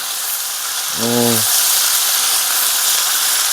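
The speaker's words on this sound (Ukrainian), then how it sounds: "Чуєте, як шкварчить?" Loud, steady sizzling of pork fat frying in a pan fills the scene, with a short harmonic hum briefly cutting in near the start.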